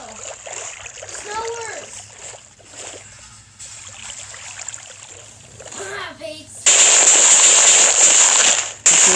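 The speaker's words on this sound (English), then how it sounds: "Yeah, that's what we call a nuclear explosion." Someone talks over soft game noise before a TNT nuke goes off in a video game village. The blast hits as a sudden loud, sustained roaring burst of noise near the end, then cuts off.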